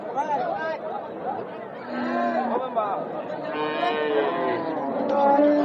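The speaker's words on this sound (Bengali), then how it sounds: "প্রচুর পরিমাণে গরু আমদানি" Cattle moo amid the chatter of the busy Raniganj cattle market, where dairy cows are sold, low calls rising over the steady murmur of nearby voices.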